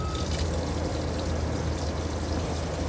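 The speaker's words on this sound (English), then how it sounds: "the first thing we're going to do is drain the fresh water tank" Water gushes steadily from an RV fresh water tank drain, a constant broad rushing splash that stays loud and unbroken throughout, close by with no talk.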